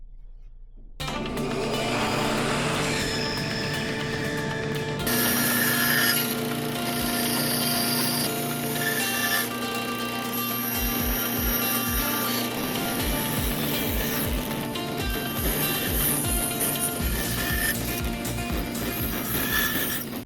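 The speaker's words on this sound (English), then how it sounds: "So over to the bandsaw. Shout out to Dad. Thanks for letting me use your bandsaw, the old Craftsman. Got it up and going." An old Craftsman wood bandsaw runs with a steady motor hum and whine while cutting cedar, the blade load shifting and rasping through the wood, loud and close, with no talking.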